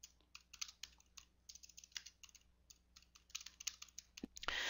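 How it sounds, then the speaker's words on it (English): Rapid typing on a computer keyboard, a steady patter of light key clicks at close range, ending with a couple of firmer key presses. "Then I'll hit enter and start typing."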